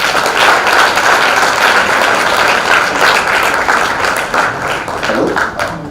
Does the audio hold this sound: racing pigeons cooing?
no